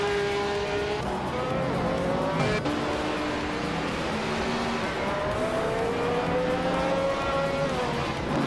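A 1966 Lola T70 Chevrolet race car in a racing video game roars continuously at high revs, its engine pitch sweeping through gear changes and a few abrupt shifts, with tire squeal hinted underneath; no talking.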